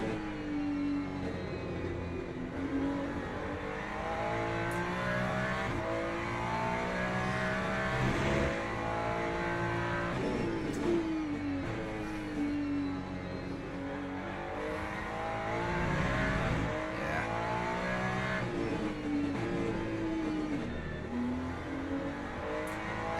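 Race car engine in Le Mans Ultimate, an LMGT3 car on track at Portimao, revving continuously through gear changes and throttle lifts, loud and steady throughout with no talk.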